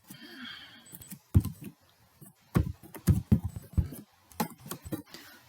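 Keys clatter on a computer keyboard as someone types a file name while saving a connecting rod model. Clicks come in short, irregular bursts with pauses between them, close and moderately loud, with a faint sigh near the start.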